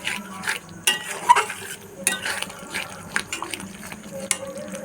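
Chopped ingredients being stirred and mixed in a pan for a vegetarian paneer dish, irregular scraping and knocking strokes over a soft sizzle, close and moderately loud.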